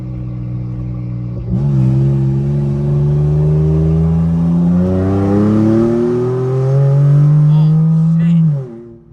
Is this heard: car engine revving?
yes